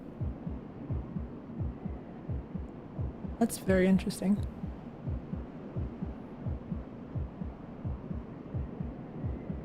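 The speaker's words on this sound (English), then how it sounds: "I'm not sure where that, like, heartbeat sound is coming from." In the Demon's Souls video game a low heartbeat throbs steadily, a repeating double thump that runs throughout, with a brief spoken comment heard over it partway through.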